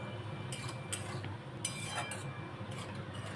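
A metal spoon scrapes and clinks against a pan while ridge gourd is stirred with turmeric, cumin and ginger paste, a few sharp taps over a low cooking hiss.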